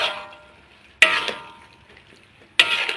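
Luffa stir-fried with pork and fresh chilies in a big wok: two sharp bursts of tossing and scraping, each followed by a fading sizzle, heard close with no talking.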